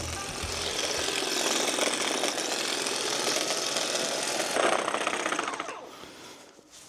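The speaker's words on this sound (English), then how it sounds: "It's cutting the grass pretty well." A steady, buzzing motor whine runs continuously for several seconds as a STIHL battery brushcutter works through grass, then the noise tapers off.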